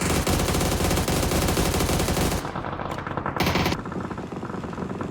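Automatic weapon fire in a Poland versus Ukraine competitive shooter video game match: a loud, dense, unbroken burst lasting over two seconds, then shorter rapid volleys, with no talking.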